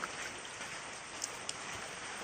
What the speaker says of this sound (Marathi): म्हणजे आता पाऊस पण परत चालू झालो बारीक